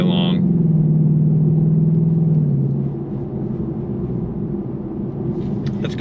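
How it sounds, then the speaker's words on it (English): The V8 of a 2025 Ford Mustang GT rumbles deeply at idle for a couple of seconds, then eases to a quieter low hum. "the sound of that V8, I could listen to that all day long"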